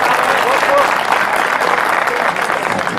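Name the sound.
audience applause at a mushaira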